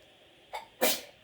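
A single human sneeze, a short intake followed by a sharp burst, fairly quiet and alone.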